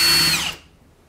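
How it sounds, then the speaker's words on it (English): A Milwaukee M18 FUEL 2763 cordless impact wrench spins freely in torque mode with a loud high-pitched whir that winds down and fades out about halfway through the burst. "when I press it on the trigger, you'll see how fast the anvil is going to spin"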